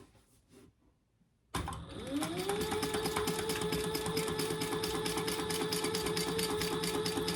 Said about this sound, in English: we're going to sew these two together